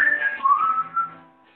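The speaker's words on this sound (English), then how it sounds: "If you can whistle, come on." A person whistles a short melodic phrase alone, clear and close, a few wavering notes fading out at the end.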